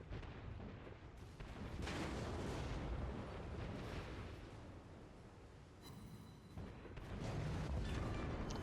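Tirpitz battleship main guns firing in World of Warships, a loud sustained rumbling roar of heavy naval gunfire with booming bursts that swell and fade over several seconds.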